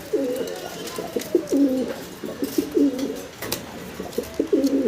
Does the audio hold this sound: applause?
no